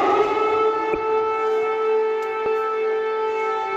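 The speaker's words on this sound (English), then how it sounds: "An air raid siren over Kyiv yet again." An air raid siren wails over Kyiv, a loud steady civil defense tone holding continuously throughout with no voices, a couple of faint knocks underneath.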